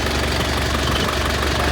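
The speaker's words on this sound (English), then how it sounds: "we have to leave the engine running" A car carrier truck's engine idles steadily close by, a loud continuous low rumble with a knocking throb and no voices.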